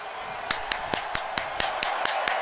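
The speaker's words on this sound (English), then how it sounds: "Listen to this crowd, man." A large wrestling arena crowd in the WWE 2K25 video game roars in a steady wash, punctuated by rhythmic, evenly spaced claps or thumps about twice a second.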